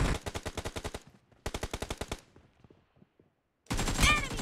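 Rapid automatic gunfire in a shooting video game: two quick bursts of about eight shots each, separated by a short pause. A few faint scattered pops follow before a different, louder game sound cuts in.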